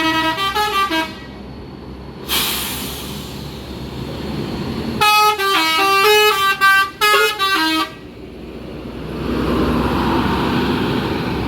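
A new PO ANS Patriot TE bus in West Sumatra leaves a terminal, sounding a loud melodic multi-tone horn in two separate bursts over a low engine rumble.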